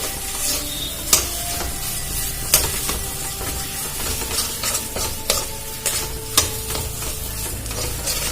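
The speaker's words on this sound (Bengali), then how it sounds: "এটা খুব ভালো করে ভেজে নিতে হবে" Filling for a vegetarian Mughlai snack frying in a pan, a loud continuous sizzle broken by repeated sharp scrapes and knocks of a spatula as it is stirred, close up and without voices.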